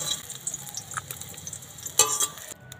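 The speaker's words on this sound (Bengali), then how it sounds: "কড়াতে যে তেল ছিল সেই তেলের মধ্যে ফোড়ন দিয়ে দিচ্ছি গোটা জিরে, কাঁচা লঙ্কা কুচানো, টমেটো কুচি" Whole cumin, green chili and chopped tomato tempering in hot oil in a wok, a soft sizzling hiss with a few stirring clinks and a brighter burst near the end.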